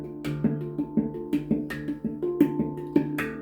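A handpan plays a steady rhythmic pattern of ringing tones, with sharp percussive slaps landing on beats two and four, close and clear with no voices.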